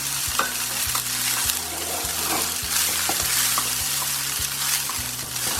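Vegetable fried rice with pepper being stir-fried in a pan, a steady close sizzle broken by repeated scraping tosses of a spatula roughly every half second, with no voices.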